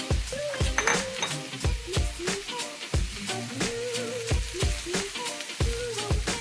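About five cups of cooked organic black beans are stirred in a pot, with repeated scraping and knocking of a utensil against the pot in a steady, irregular rhythm, close and fairly loud.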